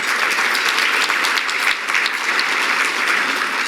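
Steady, loud applause from a gala audience honoring the event committee, continuous dense clapping throughout with no talk over it.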